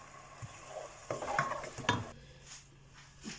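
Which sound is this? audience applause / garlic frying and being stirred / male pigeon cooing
garlic frying and being stirred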